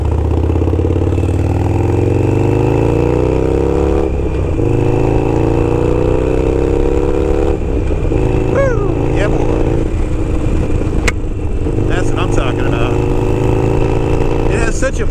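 A Harley Davidson Sportster Evo with a Gallop Flying Comet exhaust idles loud and close, its deep, steady rumble slowly climbing in pitch and holding without pause from start to finish.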